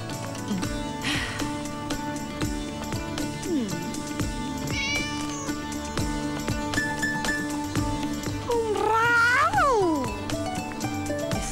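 A pet cat meows repeatedly in a film scene, several drawn-out rising and falling calls, the loudest near the end, over background music.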